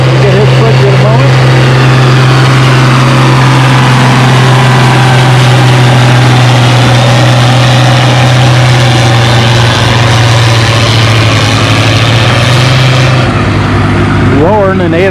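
A 9,000-pound 806 tractor runs at a spring tractor pull, its engine a loud, steady low roar for the whole stretch.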